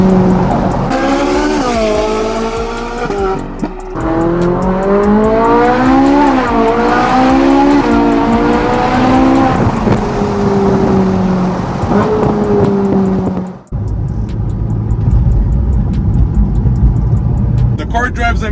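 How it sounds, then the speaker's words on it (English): A rebuilt Ferrari 458 Italia on a test drive, its engine rising and falling in long revving sweeps with tire noise, loud and close, while someone talks over it throughout. "now we could go for a test drive and see how the car drives"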